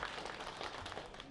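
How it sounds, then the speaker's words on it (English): Applause from an audience for the TSC Choir at a 50th anniversary celebration, a brief steady patter of clapping at moderate distance with no voices over it. "Another round of applause, ladies and gentlemen,"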